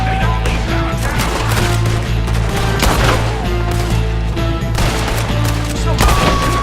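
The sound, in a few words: gunfire in the video game Red Dead Redemption 2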